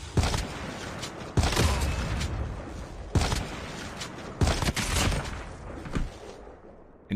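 Rapid automatic bursts from the Locust gun in a shooter video game, with several loud sustained volleys separated by brief pauses, close and dominant, trailing off at the end.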